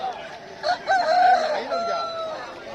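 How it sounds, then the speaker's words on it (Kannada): Country chickens and roosters at a village poultry market, with a rooster crowing loudly and nearby amid clucking fowl and faint market voices. "ಎಲ್ಲ ನಾಟಿ ಕೋಳಿಗಳು"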